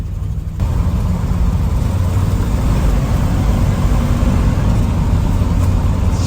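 A Ford F-250 Ranger camper special truck drives along the road as a loud, steady engine and road roar heard from inside the cab; individual gear shifts are not clearly distinguishable.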